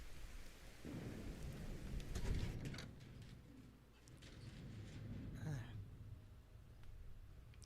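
Rain falls steadily with low rumbles of thunder rolling underneath in the video game Fallout 4, a muffled storm ambience with faint voices.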